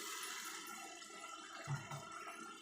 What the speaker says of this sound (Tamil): தண்ணி சேர்த்தாச்சு.